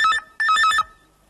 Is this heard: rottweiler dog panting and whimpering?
no